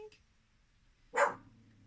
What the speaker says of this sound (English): My dog's convinced she can hear something.